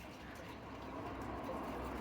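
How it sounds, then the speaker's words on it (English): Pigeons or doves coo softly in an English walled country garden in May, faint and somewhat distant against a steady outdoor hush, with no one speaking. "Here comes the birds now."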